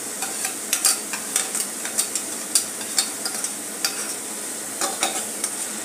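Tomato purée sautés in a pan for saandge gravy, a soft background sizzle broken by repeated sharp scraping clicks of a spoon stirring at an uneven rhythm, close and without talk.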